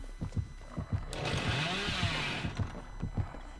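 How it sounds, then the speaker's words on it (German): A chainsaw revving in the horror video game Dead by Daylight, a sustained buzzing roar rising midway over a rhythmic series of thumping footsteps. "Ja, mach Kettensäge, los."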